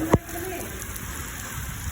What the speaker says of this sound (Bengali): কী জোরে বৃষ্টি হচ্ছে দেখো